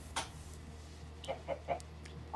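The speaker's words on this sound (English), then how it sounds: "there's a chicken way up there" A chicken clucking in the video game Minecraft: a short run of faint, soft clucks, one early and then three spaced evenly near the end, heard alone over a low steady hum.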